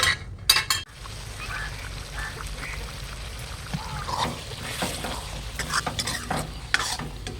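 Shallots, the small sambar onions, cook in a pan with a steady sizzle under repeated stirring scrapes and clanks, and a louder burst of spoon and pan knocks comes near the start.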